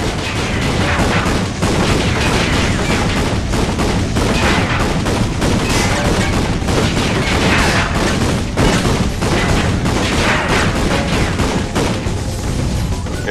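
Heavy weapon fire and explosions in the Ratchet & Clank All 4 One video game, a dense, loud, unbroken barrage of blasts and crashes running throughout.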